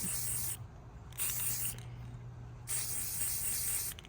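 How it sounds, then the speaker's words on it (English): Short bursts of spray paint hissing from an aerosol can held back from a tumbler, three separate sprays with quiet gaps between them, close and fairly soft. "You're just dusting it with the spray paint."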